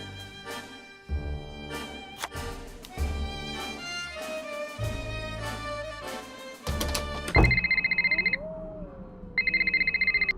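A phone ringing inside the Nancy Drew: The Captive Curse video game, heard as bright repeated electronic trill bursts that follow a stretch of layered musical score and carry on loud and close to the end.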